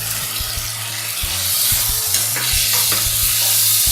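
Onions and chopped tomatoes sauté in oil in a pan for a Tamil prawn curry, a loud close sizzle with the repeated scrape and knock of a spoon stirring, no voices.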